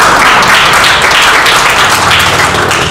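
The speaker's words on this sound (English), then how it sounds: "Thank you for the applause" An audience applauds a guest speaker at a talk event, a loud dense wash of clapping held steady for about three seconds, close and without gaps.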